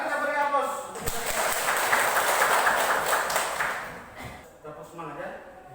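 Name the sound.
audience applause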